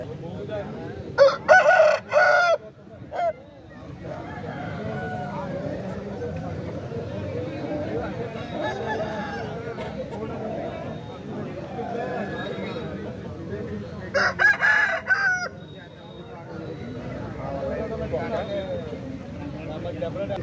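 Roosters crowing at a Saturday country chicken market in G. Mamidada, two loud crows rising sharply above a steady crowd murmur and nearby talk, the second arriving after a long stretch of chatter.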